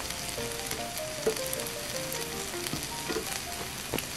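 Tomato and egg sizzle and crackle steadily while stir-frying in a hot pan over high heat, with occasional scraping and stirring clicks, close up and without any talking.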